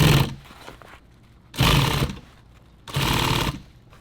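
Sewing machine stitching a nylon pouch for tactical gear, three loud close bursts of rapid needle chatter separated by short quiet pauses, no voices.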